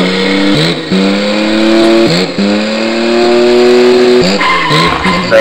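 Race car engines whine and rise through gears in a racing video game played on a Super Console X Pro, with repeated tire skids and squeals cutting in over about five seconds, loud and close.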